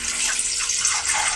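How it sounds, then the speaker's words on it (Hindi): Water is poured steadily from a glass into a pot of chicken for yakhni, giving a continuous close splashing gush with no talking. "अब इसमें मैं 5 से 6 गिलास पानी डालूंगी।"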